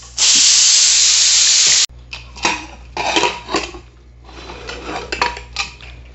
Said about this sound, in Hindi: इसका प्रेशर रिलीज़ कर लेंगे